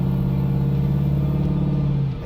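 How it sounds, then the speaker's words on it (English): A supercharged 1969 Chevy Camaro RS/SS pro-touring car with an LS3 engine, its exhaust holding a loud, close, steady droning rumble that cuts off near the end, with no talking. "Exhaust sounds phenomenal."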